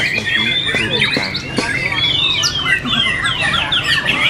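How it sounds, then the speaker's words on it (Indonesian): Many white-rumped shamas chirp and whistle at once at a songbird contest in Vietnam, a busy, overlapping chorus of bright song phrases, with a voice speaking underneath. "Burung wajib bunyi di kantringan."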